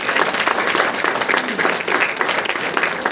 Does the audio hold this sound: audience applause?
yes